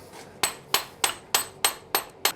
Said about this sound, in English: It means being hit with a hammer.